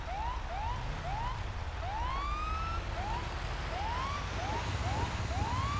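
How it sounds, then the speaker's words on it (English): A police car siren in the Code Zero Patrol video game sounds a rapid series of rising yelping whoops, loud and repeating without pause, with steady engine-like noise underneath. "I'm lighting him up, hitting the siren."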